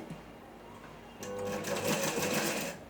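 A sewing machine stitches fabric in a continuous whirring run, starting faintly and growing louder and busier partway through, close by with no talk.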